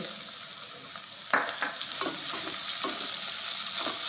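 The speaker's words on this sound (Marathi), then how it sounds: "हे बघा कांदा बारीक चिरलेला टाकते" Finely chopped onion lands in a pan of hot oil and finely chopped garlic with a sudden sharp crackle, then settles into a steady, moderate sizzle broken by light scrapes of stirring.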